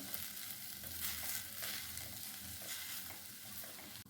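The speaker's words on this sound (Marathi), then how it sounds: "हा कैरीचा पीस आपल्याला तुपामध्ये दोन ते तीन मिनटं चांगला परतून घ्यायचा आहे" Raw mango pieces sautéed in ghee for a kairicha muramba, giving a steady close sizzle with scraping stirs throughout, and no voices.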